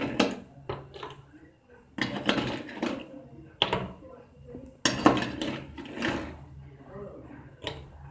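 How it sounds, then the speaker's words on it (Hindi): Ice cubes dropped into glasses of freshly made banana milkshake, giving repeated close clinks and clatters in uneven bursts, with a few louder knocks against the glass. "अब इनमें जो आइस क्यूब है वो डाल देंगे।"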